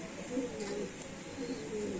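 Madrasi highflyer pigeons coo softly in a few low, rolling calls, with a background hum running underneath throughout.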